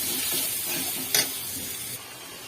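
Spice paste of chopped tomato, ginger and green chilli sizzling steadily in hot oil as it is sautéed for a potol-aloo-prawn curry, a continuous close crackle with a brief louder stir midway.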